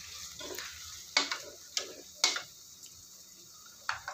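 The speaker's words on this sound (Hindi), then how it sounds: "ये अच्छे से सॉटे हो चुके हैं" Vegetables sauté in a pan for paneer garlic chowmein, giving a soft continuous sizzle broken by several sharp clicks and taps of a utensil against the pan.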